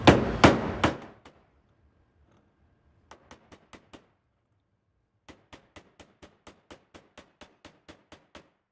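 A part is hammered down onto the shaft of an MD dryer gearbox during an overhaul: a few heavy, close blows open the clip, then two runs of light, evenly spaced metallic taps follow after a pause.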